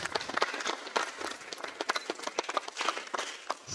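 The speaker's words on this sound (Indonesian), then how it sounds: "Tepuk tangan untuk mereka." An audience claps at a university orientation briefing for new students at Universitas Muria Kudus, a fairly quiet patter of uneven, scattered hand claps that continues throughout.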